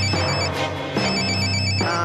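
A telephone rings in steady repeating bursts in a scene from the animated series Code Lyoko, close and fairly loud with no talk over it.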